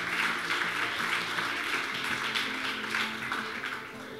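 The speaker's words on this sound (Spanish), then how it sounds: "pido un aplauso para ustedes mismos" A young audience at a talk on journalism and the right to information applauds itself, dense sustained clapping from many hands at moderate loudness, easing off slightly toward the end.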